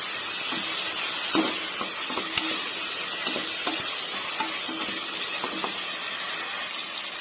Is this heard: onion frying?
yes